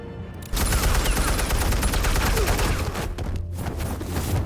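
Rapid gunfire in Batman: The Telltale Series, a loud sustained burst of overlapping shots beginning abruptly after a brief quiet moment and continuing as a dense rattling barrage.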